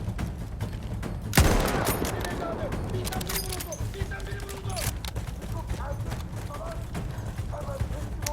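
Video game gunfire in Seven Pillars of Wisdom, a sharp loud shot early on followed by scattered lighter pops and clicks over a steady background rumble.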